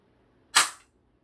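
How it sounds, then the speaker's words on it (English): A single BB gun shot, one sharp, close snap that decays quickly into silence. "now I will shoot this gun."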